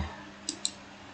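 Two quick computer mouse clicks, close and distinct and spaced about a fifth of a second apart, set against a faint steady background hum while clicking a print button in a school records application.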